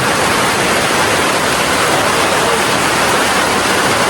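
Water flows at its source, feeding a bathing spot in Turil, heard as a loud, unbroken rushing hiss close by with no talking.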